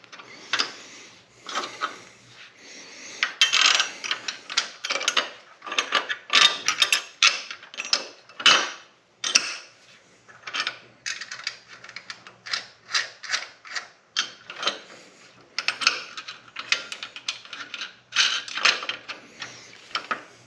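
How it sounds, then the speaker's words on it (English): Lock nuts being screwed onto the plates of a trailer jack for a log splitter: a long run of close, irregular metallic ratcheting clicks and rattles in quick bursts, with no talk. "Go ahead and put your plates on, screw your nuts on."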